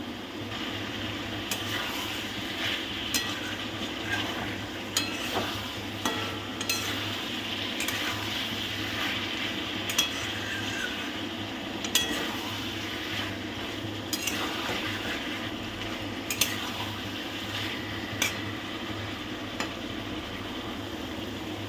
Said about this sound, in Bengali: টমেটোটা অ্যাড করে 2 থেকে 3 মিনিট খুব ভালো করে একটু নাড়িয়ে নেব